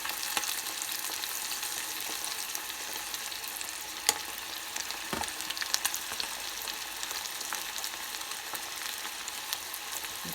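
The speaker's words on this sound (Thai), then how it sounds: "ทอดให้มันเหลืองๆนะจ๊ะเนาะ" Battered chicken tails deep frying in hot oil, a steady dense crackle and sizzle running throughout with a few sharper pops, close and continuous, no voices.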